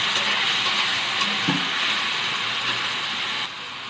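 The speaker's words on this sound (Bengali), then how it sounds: "তেলটা গরম হয়ে গেছে, পেঁয়াজ আর রসুন বাটা দিয়ে দেবো।" Onion and garlic paste hits hot oil and gives off a loud, even hiss that holds steady throughout, with one brief pop midway and no talk over it.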